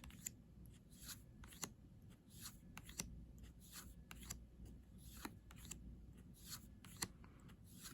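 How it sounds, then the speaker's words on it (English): Slippery Rider-Waite playing cards are shuffled in quick, repeated riffles, a rhythmic series of soft crisp flutters and slides, close but quiet, with no talking. "I don't think I'll have any trouble shuffling them."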